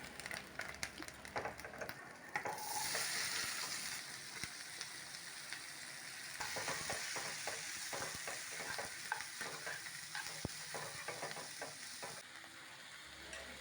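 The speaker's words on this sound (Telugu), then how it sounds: "ఉల్లిపాయ ముక్కలు వేసి కలర్ మారే వరకు బాగా వేయించండి" Onion slices fry in oil with cumin seeds, curry leaves and green chilies, giving a steady sizzle broken by repeated scraping stirs, with a louder burst of frying near the start and no voices.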